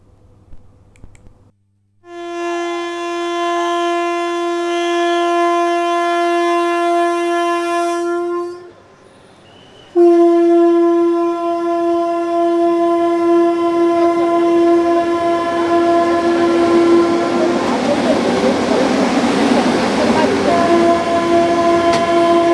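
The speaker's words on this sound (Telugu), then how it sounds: "ఏలూరులో వందే భారత్ రైలు ఆగిందని" A Vande Bharat Express train horn sounds loudly in a long sustained blast, pauses briefly, then blares again as the train rumbles into Eluru station close by.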